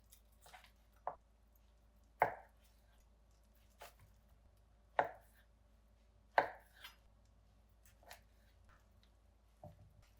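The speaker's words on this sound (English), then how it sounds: "we're going to cut some of these into more bite-sized pieces" A knife chopping cooked oden ingredients such as Japanese hot pot vegetables and fish cakes into bite-sized pieces on a board, six or seven sharp, separate cuts at irregular intervals, close and clear in a quiet room, no talk.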